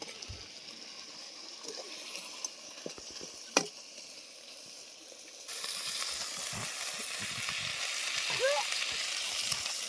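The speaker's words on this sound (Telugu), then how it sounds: "చికెన్ వేసుకున్న తర్వాత ఒక కళ పెడుతున్నా, గంటతో తిప్పుతున్నా, అటు ఇటు తిప్పేస్తే మంచిగా అంతా కలిసిపోద్ది" A ladle stirs chicken for biryani in a pot, giving soft scraping and stirring with a low sizzle that grows steadier and louder partway through, heard alone at close range.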